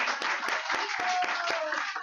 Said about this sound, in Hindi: जोरदार तालियां माता जी के लिए।